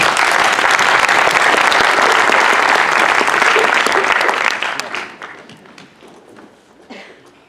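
A theatre festival audience applauds loudly for the first contestant, a full burst of clapping that thins and fades over the last few seconds to scattered claps.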